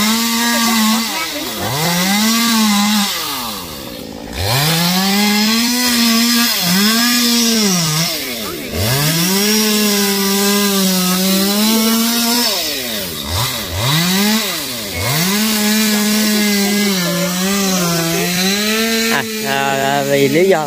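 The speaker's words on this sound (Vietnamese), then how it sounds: "cưa cái cây dừa đó để tấn mé" A chainsaw engine revs up and down repeatedly as it cuts through a thick coconut palm trunk, loud and close, with brief pauses between cuts.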